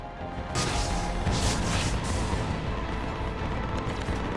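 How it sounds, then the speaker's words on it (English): Loud, dense booming blasts of cannon fire in the video game Mass Effect Legendary Edition, with rumbling, explosive texture, continuous over the whole stretch without speech. "Cannons initializing"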